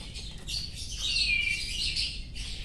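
A young white-rumped shama, a murai batu fledgling, gives high, rasping begging squawks in a few sustained bursts, close and clear with no talking.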